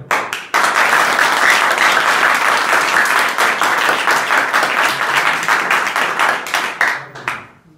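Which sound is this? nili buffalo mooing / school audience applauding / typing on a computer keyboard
school audience applauding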